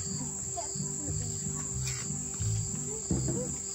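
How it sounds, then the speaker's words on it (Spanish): Swarms of insects whine and chirp steadily outdoors in the evening, a constant high buzzing layer behind faint clattering and occasional distant voices. "Hay muchos zancudos acá"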